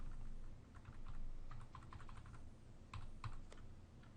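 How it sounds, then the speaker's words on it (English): Keys on a computer keyboard are tapped again and again, the delete key pressed in a row of light, fairly quiet clicks that come in small clusters over a soft background hiss. "So we're just going to keep pushing delete."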